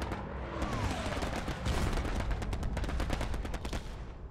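An aircraft strafing run in Hell Let Loose, with rapid machine-gun fire rattling in dense bursts over a roaring engine sweep, loud and close; a brief voice is heard beneath.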